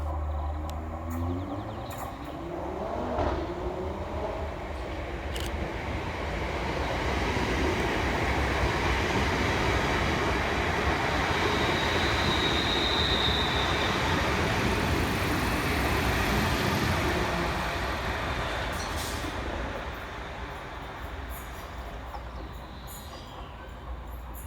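A ScotRail Class 380 electric train passing through Pollokshields East station in Glasgow, its rumble and wheel noise rising, holding loud and steady through the middle, then fading, with faint clicks and a brief high whine along the way.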